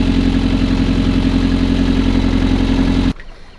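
A boat's inboard engine running in gear, a loud steady drone with a low throbbing beat that cuts off abruptly near the end, leaving near silence.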